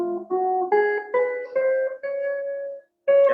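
A mandolin plays a short phrase in a Vivadi raga, a few plucked, sustained notes climbing and settling, close and clear, then a brief pause before one last note.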